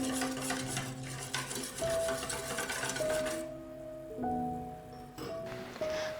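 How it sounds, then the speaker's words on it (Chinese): Rice flour batter with room-temperature water and a pinch of salt being stirred, a steady soft swishing and scraping that runs for a few seconds over tonal background music, then fades under the music. "搅拌均匀。"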